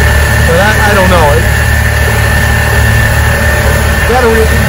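A 1986 Force 85 hp outboard engine runs steadily under way with fuel feed trouble, a loud continuous drone with vibration throughout, while a voice talks briefly over it near the start and end.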